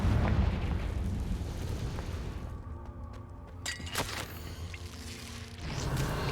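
A Confringo blasting spell explodes in Hogwarts Legacy, a loud rumbling blast with bursts and crackling debris that swell and fade over several seconds, with no talk.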